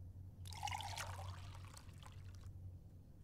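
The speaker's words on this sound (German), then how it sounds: "Nach dem Kaffee ein Schlückchen Wasser." A character drinking water in the game Fahrenheit (Indigo Prophecy): a soft liquid trickle or pour lasting about two seconds, faint over a steady low hum.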